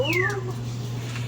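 A cat gives one loud, close meow with a falling pitch while waiting to be fed, over a steady low hum, then the call fades into background noise.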